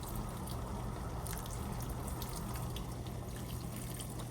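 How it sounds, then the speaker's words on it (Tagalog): Hot water pours steadily into a cooking pot of leftover lechon manok paksiw, a continuous close splashing stream with no talk. "Lagyan natin ng konting tubig,"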